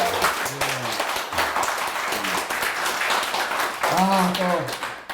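A studio audience and staff clap on a Korean talk show set, a brisk patter of hands running throughout while people talk over it in bursts.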